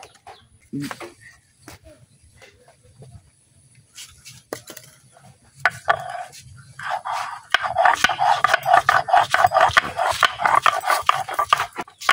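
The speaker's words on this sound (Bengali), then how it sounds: "এখন আমি আদা রসুনটা বাটতে লইতেছি।" Ginger and garlic ground by hand in a village kitchen, with sparse scrapes at first, then a run of quick, rhythmic rasping strokes that grows loud and steady toward the end.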